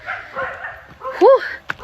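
Dogs barking outdoors on the way to an irrigation spring in Bansalan, Davao del Sur, with a couple of sharp yips and barks near the end over a background of talk and movement.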